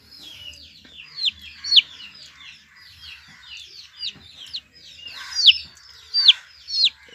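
A young chicken being treated for fowlpox wounds on its neck gives a run of high, sharp chirping clucks in irregular bursts. The calls are close and fairly clear over a quiet background, with no talking.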